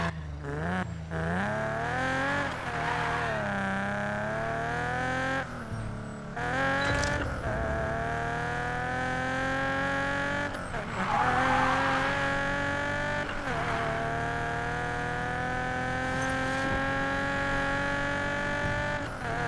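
A Nissan 350Z drifts through a town in a video game, its engine revving up and down continuously with rising and falling pitch sweeps, gear shifts and bursts of tire squeal, loud and close throughout with no talking.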